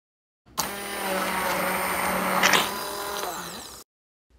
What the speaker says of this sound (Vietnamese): Nên mình mua cái máy xay tay này.